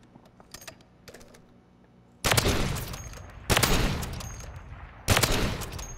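Gun in a Call of Duty-style video game firing three loud, sharp bursts, each decaying with a reverberant tail, preceded by quieter clicks and faint thuds.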